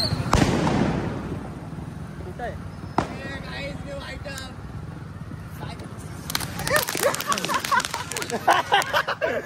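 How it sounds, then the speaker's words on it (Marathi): Firecrackers are set off from a moving vehicle during Diwali celebrations: a loud nearby bang opens, another sharp pop follows midway, then a rapid crackling string of bursts, with voices chattering and shouting throughout. "हे बघा चालत्या गाडीवर फटाके फोडतो"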